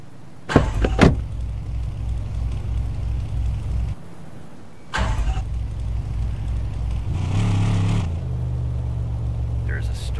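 Truck in the Dealer Simulator video game: a steady low engine rumble runs throughout, broken by a couple of sharp door-like thumps near the start and a brief dip midway, with a rising hum late on.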